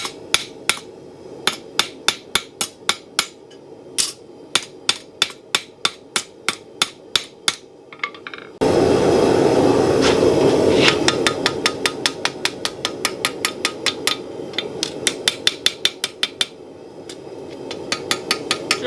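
A blacksmith's hammer rings on a forged steel spoon over an anvil in sharp, evenly spaced blows, followed by a burst of scraping or grinding, then a faster run of lighter hammer strikes, loud and close.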